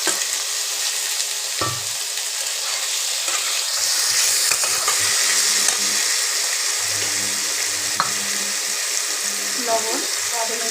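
Parboiled vegetables, including pumpkin, fry in a pan for a Bengali pui data charchari: a loud, continuous sizzle with occasional stirring clinks and scrapes, carrying on without a pause.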